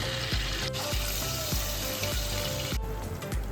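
Steady sizzling of cumin and asafoetida frying in oil, continuous and close, with faint watery bubbling and a few soft low thumps.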